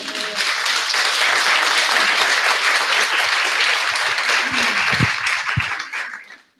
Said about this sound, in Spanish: ¿Le damos un aplauso al Señor o no?